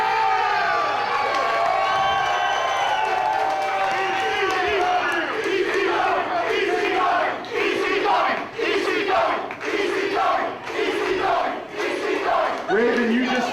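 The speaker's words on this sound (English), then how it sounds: "And this crowd loves it. Union City, New Jersey is on their feet." A wrestling crowd in Union City, New Jersey roars and shouts loudly, a sustained mass of cheering voices that breaks into rhythmic chanting bursts toward the end.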